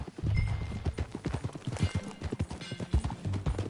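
Horse hooves clip-clop at a steady trot in Red Dead Redemption 2, close and distinct beats running through the whole stretch without talk.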